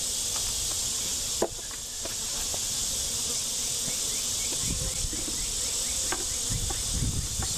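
Honeybees buzz continuously around a tiny swarm's hive, a dense hum with scattered bees flying close past, plus faint clicks and rustles.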